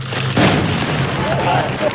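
Explosion in Bulgarian news footage, a sudden broad boom near the start that fades into a long rumbling roar, with voices and crowd noise mixed in underneath.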